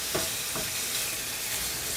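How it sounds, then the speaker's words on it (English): Chicken stir-frying in a hot pan gives a steady, loud sizzle with a couple of soft scrapes from stirring near the start, and no talk. "we will just stir fry this for 2 minutes"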